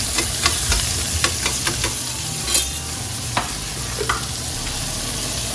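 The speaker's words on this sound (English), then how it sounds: "We just start melting the butter with the olive oil. Now, but the pan is hot." Butter melting into hot olive oil in a pan crackles with a steady close sizzle, broken by short sharp pops and the scrape of stirring, with no one speaking.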